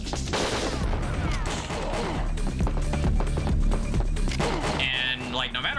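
Dense exchange of gunfire during a boss fight in Winback on PS3, rapid repeated shots and crashes nearly continuous and loud, with a voice talking over it.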